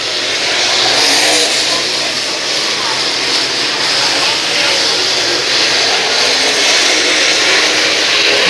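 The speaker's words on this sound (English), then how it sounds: "driving the Masterbuilt race car" Dirt super late model race cars roar around the Brownstown Speedway oval on championship night, a loud, continuous engine drone with steady revving; speech is likely mixed in under the engine noise.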